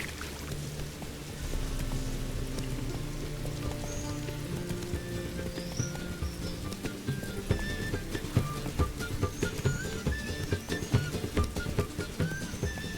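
Steady rain in The Witcher 3: Wild Hunt patters and hisses throughout, with scattered droplet ticks and a low ambient hum beneath, fairly close and continuous.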